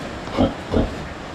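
A pig on a provincial farm grunts twice, low and close, the two short oinks about a third of a second apart over steady background noise.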